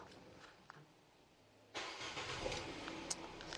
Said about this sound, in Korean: 버튼 누르자마자 시동 깔끔하게 잘 걸려지는 모습까지 확인해 보실 수가 있습니다.